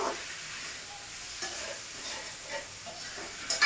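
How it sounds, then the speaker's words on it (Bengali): Chickpeas and potatoes sautéing in a pan with mustard oil, a steady low sizzle under intermittent scraping stirs, close and fairly quiet, with no voices. "ছোলা আর আলুটাকে একসাথে দিয়ে দিয়েছি, ওটাকে আমি একসাথেই দিয়ে দেবো। এবার এটাকে ভালো করে কষিয়ে নিচ্ছি।"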